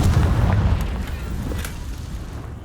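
The Confringo blasting spell in Hogwarts Legacy sets off a heavy, booming explosion at close range. Its deep rumble fades over a couple of seconds, with a few faint crackles in the tail.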